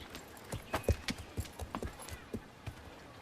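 Several horses' hooves clip-clop at a relaxed, uneven pace, a scatter of faint mid-distance thuds and clacks with a little jangling.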